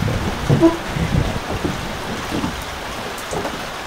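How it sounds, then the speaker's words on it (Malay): Rain falling during a night of river prawn fishing at Mersing, a steady diffuse patter with a few louder bumps near the start, fairly close and unbroken by talk. "Sampai hujan pula."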